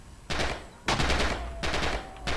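Automatic gunfire bursts from a competitive multiplayer shooter match, three loud bursts in quick succession with short gaps, no talk over them.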